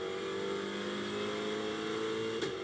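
A GT2 race car at Misano closes on the finish line during qualifying, its engine a steady, sustained drone with a brief sharp burst near the end, heard alone without talk.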